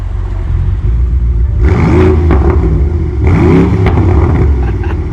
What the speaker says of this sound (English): Now rev it up a little bit.